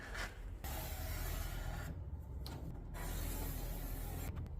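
Sheet metal being cut for a Chevrolet Silverado truck floor pan replacement, a close, harsh rasping and grinding that runs continuously with brief shifts in tone, no talking.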